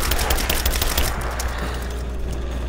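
Rapid gunfire from Rise of the Tomb Raider, a dense burst of loud, close shots crowding the first second and then thinning into a steady rumble of continuing fire.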